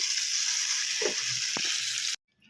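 Hot oil tempering with mustard seeds and dried red chillies sizzles loudly and steadily as it is poured into chutney, with a couple of brief clinks, then cuts off abruptly into near silence.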